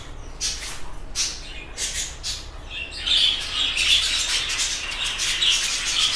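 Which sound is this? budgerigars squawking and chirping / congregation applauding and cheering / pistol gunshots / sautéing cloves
budgerigars squawking and chirping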